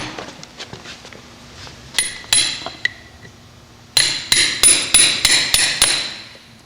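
A farrier drives the corner of a gouge up under a horseshoe nail clinch with sharp metallic hammer blows, several scattered strikes then a quick rhythmic run of about seven ringing taps, close and loud.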